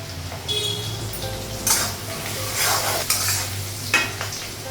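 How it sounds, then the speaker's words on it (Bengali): Steady sizzling of onions frying in a pan, with occasional stirring scrapes and clinks of a utensil, close and continuous with no talking. "পেঁয়াজটা ভাজা হয়ে গেছে"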